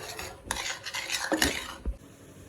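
Dhokla batter being stirred in a bowl with a spoon, a few scraping clinks and swishes at close range, no talking.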